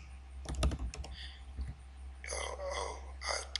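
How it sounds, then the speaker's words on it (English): Keystrokes on a computer keyboard while entering text into a design program, a quick cluster of sharp clicks early on followed by a denser patch of brighter tapping, close and moderately loud with no talk. "So I type Mr. John A."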